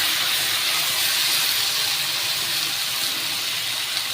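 Neem leaves and vegetables frying in a pan over a lowered gas flame, a loud, steady broadband hiss of sizzling oil that holds evenly from start to finish.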